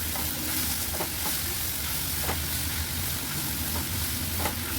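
Dried shrimp (sukha jawla), seasoned Kokani style with salt, masala, turmeric, coriander and kokum, sautés in a pan with a steady, loud close sizzle and a few light stirring scrapes, no voices.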